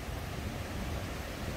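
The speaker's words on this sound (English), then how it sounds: "It's been raining so hard that the river has come up all the way here." Swollen river rushing after heavy rain at a crossing point in a Guatemalan nature park, a steady broadband roar of turbulent water, close and loud, with wind buffeting the microphone and no talk.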